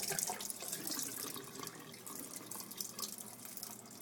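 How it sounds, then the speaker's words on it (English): Dirty water from a bird cage being cleaned pours and splashes into a sink in a continuous, fairly quiet gush. "Dump all your dirty water out."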